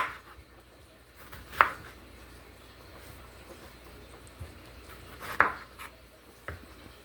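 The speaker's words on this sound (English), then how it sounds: "So I'm just going to cut those like dices." A knife dices ingredients on a cutting board for a saltfish dish made from leftovers, with a few sharp, isolated chops spaced seconds apart over a low steady kitchen background.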